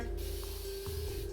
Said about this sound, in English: I'm gonna spray my face a little bit more